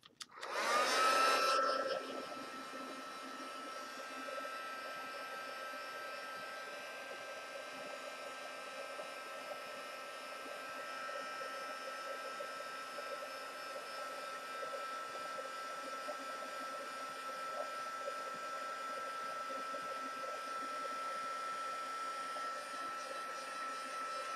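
A heat tool melting embossing powder for a resist effect, roaring up loud at once, then settling into a steady, even blowing whir that runs on unbroken for over twenty seconds.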